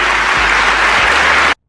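Dense applause from a political audience fills the whole stretch as a steady, loud wash of clapping, then cuts off abruptly near the end.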